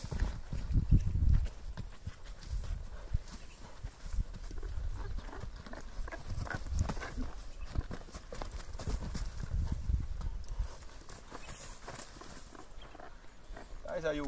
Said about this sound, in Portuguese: O cavalo obedece certinho aos comandos da rédea